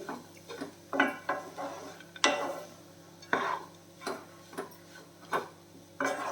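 A spoon stirs poha mixed with salt and lemon juice, giving soft rhythmic scraping and clinking taps against the vessel, about a dozen strokes, close and fairly quiet.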